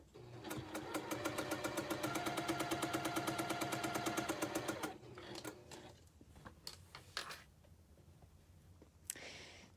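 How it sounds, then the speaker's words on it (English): A sewing machine chain pieces a quilt block in a fast, even stitching rhythm for about five seconds, then stops, leaving scattered handling clicks and light rustling. "So I'm just chain piecing this whole piece together, this whole block."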